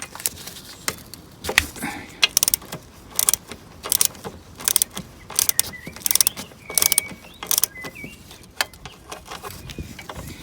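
A ratchet and socket loosen a bolt on a motorcycle brake caliper, giving rapid bursts of loud, close clicking with short pauses between them and no talking.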